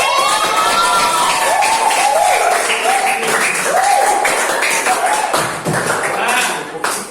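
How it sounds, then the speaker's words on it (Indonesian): A school classroom of junior high students applauds after group presentations, with dense continuous clapping, cheering and children's shouts throughout, with a voice rising over the clapping at times. "Tepuk tangan untuk kalian semuanya"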